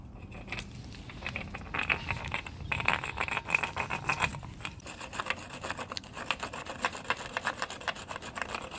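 Sandpaper rasping steadily against excess paint on Brembo brake pads from a Seat Leon Cupra R, a continuous close scratchy rubbing with uneven strokes and no talk.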